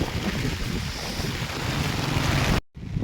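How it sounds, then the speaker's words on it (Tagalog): Fast-flowing river current rushing beneath a bridge, a steady loud broadband roar of water mixed with wind buffeting the microphone, cutting out briefly near the end. "medyo mabilis yung agos"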